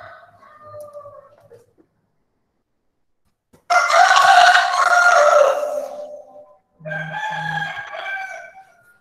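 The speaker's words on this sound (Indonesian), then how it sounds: "Ini banyak ayam berkokok di sini." Several roosters crow loudly nearby, one long call overlapping another and a second burst following after a short gap, preceded by softer clucking.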